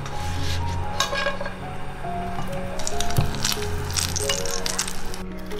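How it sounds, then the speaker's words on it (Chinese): Pan-fried chicken wings are scooped with a spatula into a clay pot: scraping, soft squishing and a few clinks of utensil on cookware, close up, with music playing underneath. "鸡翅煎好了，把它铲到砂锅里来"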